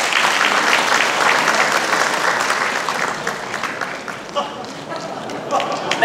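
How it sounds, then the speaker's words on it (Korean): A town-hall audience in a Korean city meeting with its mayor applauds warmly, loud dense clapping that eases slightly midway with some crowd murmur and voices beneath. "여러분 큰 박수로 맞아주십시오"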